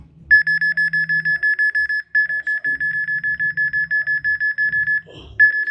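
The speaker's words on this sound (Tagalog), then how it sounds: "Detected high radiation." Rapid, rhythmic electronic beeping from a radiation detector alarm held to a meteorite, loud and close, pausing briefly twice, with a low hum and faint handling noise beneath.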